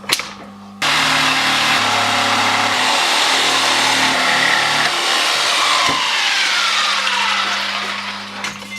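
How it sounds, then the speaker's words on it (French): A jigsaw cutting a wooden board whines loudly and steadily for several seconds after a brief start, its pitch shifting slightly as it cuts, then tapering off near the end. "La scie sauteuse."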